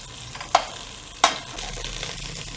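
Half an onion frying in a hot pan for a mutton tripe curry, a soft continuous sizzle broken by two quick clinks of a utensil against the pan, close, no talk.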